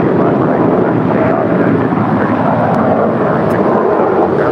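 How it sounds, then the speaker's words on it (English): A JetBlue Airways Airbus A321, four years old, departs LAX at night as flight 2885 to Miami, its engines a steady, loud broadband roar that holds without a break. "flight 2885, departing to Miami. It's a 4-year-old Airbus A321."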